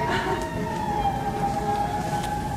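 A steady wailing fire engine and ambulance siren tone holds throughout, sounding somewhat distant over a constant rumble of traffic or engine noise.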